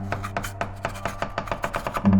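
Hollow wooden clacks and rattles in an irregular rhythm, like dice tumbling or a wooden bowl being scraped, a series of sharp close knocks standing alone against a low hum.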